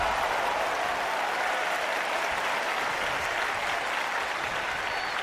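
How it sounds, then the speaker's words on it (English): Wrestling arena crowd in WWE 2K25 roars in a steady, dense cheer and applause wash, loud and continuous throughout with no pauses. "Oh, the crowd's loving this."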